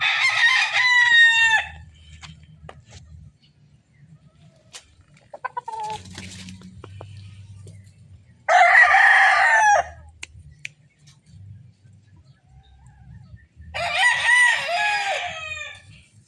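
A sweater gray gamefowl stag tethered in a backyard crows three times, each call loud and near, with quiet gaps and soft low background noise in between.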